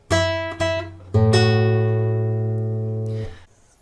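Fingerstyle acoustic guitar plays the opening phrase of Happy Birthday in a few clear plucked notes, the last one ringing out long and steady before fading, with no talking.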